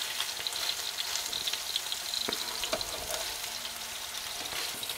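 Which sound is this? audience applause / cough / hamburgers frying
hamburgers frying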